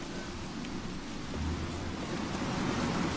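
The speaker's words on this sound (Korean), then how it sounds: "날씨가 이렇게 춥고 그러면 눈이 와야 되는데 비가 와요" Steady rain falls in the open world of The Witcher 3: Wild Hunt on PS4 Pro, a continuous hiss of rainfall with a low rumbling undertone, even and moderately loud throughout with no voices.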